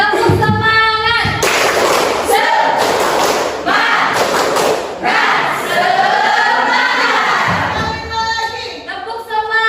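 A group performs the 'tepuk semangat' clap game, sharp rhythmic hand claps and thumps in bursts alongside chanting voices, loud and close, with pauses between clapping sequences.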